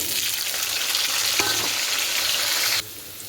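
Potatoes frying in hot oil in a pan with salt, turmeric and chili powder, giving a loud, close, continuous sizzle that cuts off abruptly near the end.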